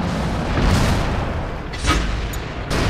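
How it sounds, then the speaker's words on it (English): Artillery shells exploding nearby in a World of Tanks Clan Wars battle: loud, continuous low booming rumble with rolling blasts swelling and fading over a few seconds, no talk over it. "Artillery's right on us."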